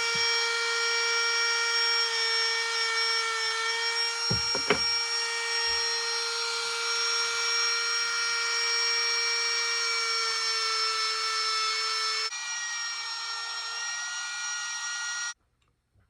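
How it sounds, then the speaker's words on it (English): A Dremel rotary tool spinning a cloth buffing wheel with compound on the ebony handle of a hunting knife keeps up a steady high-pitched motor whine. The whine drops slightly in pitch near the end, then cuts off. "I'm going to be using my Dremel with a cloth wheel and some buffing compound to polish these up"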